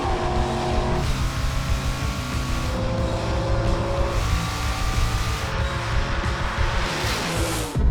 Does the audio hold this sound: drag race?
yes